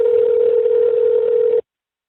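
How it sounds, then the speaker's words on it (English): A single steady telephone ringing tone sounds loud and close for about a second and a half, then cuts off abruptly into silence, placed as a call during a severe weather update. "we got a couple of rings there"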